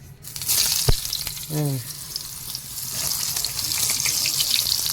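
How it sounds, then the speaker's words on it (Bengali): Egg-coated eggplant slices frying in a pan give a steady, bright sizzle. Near the start a short thump and a brief voice-like sound break in. "এই তিনটে আগে ভেজে নেবো, তারপরে আর তিনটে।"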